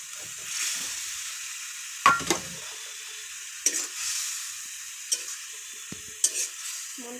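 Sago balls are stirred into simmering manchurian sauce, giving soft bubbling with several sharp spoon-and-pan clinks and scrapes spaced a second or so apart, close up and without speech.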